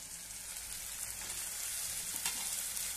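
Green peas sautéing in hot oil for a Marathi potato-and-pea curry, giving a steady, soft broadband sizzle that stays even throughout at moderate loudness, with no talking.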